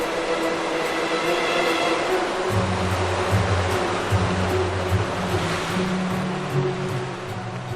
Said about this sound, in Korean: 쉴 새 없이 파도가 밀려오고